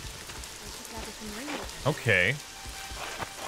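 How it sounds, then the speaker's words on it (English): Soft, steady rainfall patters in the fantasy video game The Witcher 2, a constant background hiss under a man's brief spoken word. "Lovely rain."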